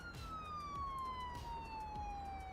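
Police car siren in a city-building game, a steady electronic wail slowly falling in pitch over faint background traffic, moderately loud and unbroken.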